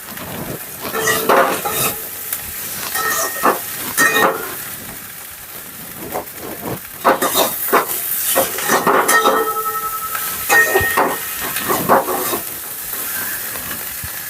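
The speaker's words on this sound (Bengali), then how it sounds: "বাকি ফুলগুলো দিয়ে দিলাম এবারে এইভাবে একটু নেড়ে নিতে হবে" Drumstick flowers added to a pan with fried potatoes and tomatoes, stirred with repeated scraping clatters of a utensil against the pan over a steady frying sizzle, with quieter stretches between bursts of stirring.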